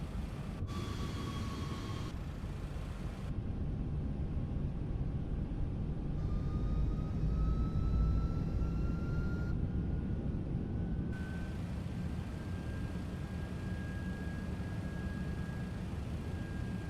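An MD-11 freighter jet taking off in a flight simulator game: a steady, dense engine roar holds throughout at a constant level, with a rising whine threading through it, and no voices.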